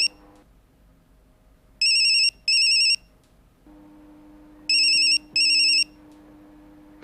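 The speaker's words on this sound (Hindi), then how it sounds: "पार्थो का मोबाइल" Two separate bursts of a mobile phone ringtone, each a pair of bright electronic chirps, sound over a quiet background of low hum and faint ambience. The ringing is fairly loud and close.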